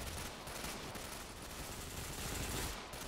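Dense, continuous automatic gunfire during a firefight in the video game Ghost Recon Phantoms, loud and unbroken for a few seconds with no talking.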